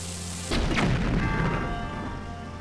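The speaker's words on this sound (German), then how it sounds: "vielleicht eben Bombenpfeil, weil der hat einfach mehr Wumms" Bomb arrow explosion in Zelda Breath of the Wild, a single sudden deep boom that rolls and rumbles away over about two seconds, loud over steady game music.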